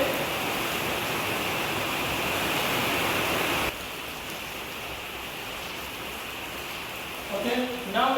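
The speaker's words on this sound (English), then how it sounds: "due to the rain we are pausing this video" Steady broadband rain hiss fills the scene, loud and continuous, dropping slightly in level midway, with a faint voice-like sound near the end.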